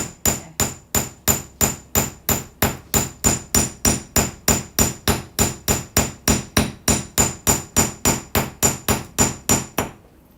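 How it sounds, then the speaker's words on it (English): A hammer strikes wire on a hard surface to shape fairy waterfall jewelry, sounding as around thirty crisp, evenly spaced metallic taps in a brisk steady rhythm, close and loud, with no talking. "Just hammer this out again"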